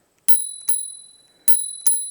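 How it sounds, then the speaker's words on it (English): The handlebar bell on a Fifth Wheel V40 Pro electric scooter rings four bright, close dings in two spaced pairs, each one fading quickly into silence. "Can't forget the bell."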